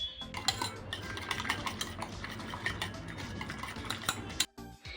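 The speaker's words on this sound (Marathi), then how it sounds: "हे सर्व मिश्रण व्यवस्थित एकत्र करून फेटून घ्यायचं आहे किंवा मिक्स करायचं आहे" Dense, rapid clinking and tapping of a utensil whisking an egg and bread omelette mixture in a bowl, a steady busy rattle for most of the stretch before stopping abruptly near the end.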